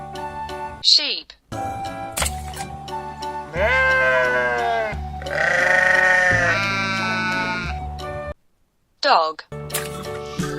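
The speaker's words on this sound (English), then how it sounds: "Sheep." Sheep bleat loudly and close, in several drawn-out quavering cries with short pauses between them and no talk.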